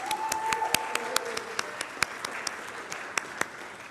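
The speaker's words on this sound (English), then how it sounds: "Can we give them a round of applause?" Scattered hand claps ring out at an uneven rhythm, a thin smattering of applause from a small group rather than a full crowd.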